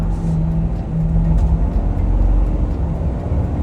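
Ford F350 Super Duty pickup with a 6.7L turbo diesel, pulling hard with a loud, steady low rumble and a faint whistling tone from close inside the cab.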